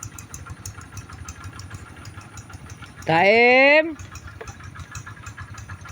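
A tractor engine runs in a rice field, a low, steady idling rumble heard throughout, with a voice briefly calling out over it partway through.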